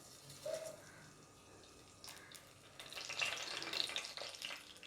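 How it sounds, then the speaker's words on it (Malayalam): Mustard and fenugreek seeds spluttering in hot coconut oil for a Kerala fish curry with drumstick and mango; a soft, quiet sizzle with scattered light pops that grows busier toward the end. "ഉലുവയും കടുകും പൊട്ടിക്കഴിഞ്ഞു."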